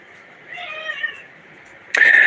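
A domestic cat gives a drawn-out meow at close range, followed by a sharper, louder cry cutting in near the end, with no talking over it.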